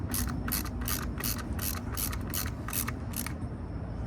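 Rapid ratchet clicking from a hand ratchet snugging a bolt on a Kawasaki ZX-14R motorcycle during a coolant change, a steady run of about ten close, crisp bursts before it stops.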